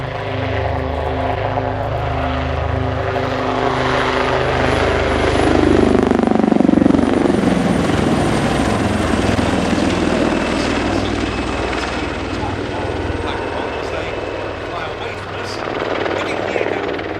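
A Royal Navy Wildcat HMA.2 helicopter performs a flying display at an air show, its rotor and turbine roaring continuously and fairly close, swelling and easing as it manoeuvres, with a commentator's voice speaking over it.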